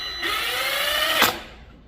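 Power drill driving a screw during a car speaker install in a Nissan Silvia, a steady whirring motor tone that runs for about a second before a sharp bite and quick wind-down.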